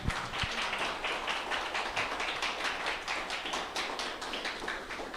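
A church congregation applauds during a service, with dense, steady clapping from many hands that continues evenly throughout at moderate loudness, without any speech.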